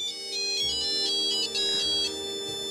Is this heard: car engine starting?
no